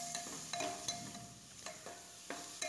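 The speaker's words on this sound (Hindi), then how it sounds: "फिर मैं इसमें टमाटर डाल दूंगी, फिर इसे अच्छी तरह मैं चलाऊंगी।" Tomatoes sizzle in a hot, oily spice masala for veg tahari, with a spoon scraping and clacking against the pan in several distinct strokes over a steady frying hiss.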